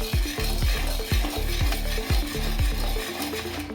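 A spoon stirs thick, sticky sugar syrup over a low flame, with about six rhythmic scraping knocks against the pan at a regular pace over a soft bubbling sizzle, close and loud, then it stops.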